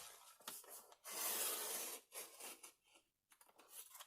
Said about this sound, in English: And then we're going to cut down, all the way down, till we reach the line going the other way.